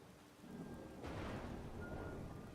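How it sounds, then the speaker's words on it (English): Steady rain hisses in a game world, with a rumble of thunder swelling in about a second in and rolling on under the downpour. "it's rendering rain right now"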